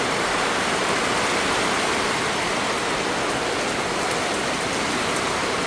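A sudden heavy rain downpour pours down in a dense, constant roar of drops hitting surfaces, loud and unbroken throughout with no voices.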